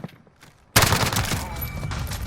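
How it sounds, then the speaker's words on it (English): MP5 submachine gun fire in Call of Duty Modern Warfare starts abruptly after a quiet moment, a loud rapid burst of shots followed by a dense, sustained rattle with ringing echoes. "The next SMG we have is the MP5."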